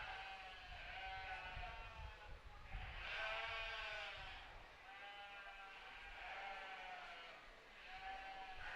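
Sheep bleat repeatedly at an FFA sheep showmanship class at the Custer County Fair, several drawn-out wavering calls overlapping at moderate distance over a low crowd murmur.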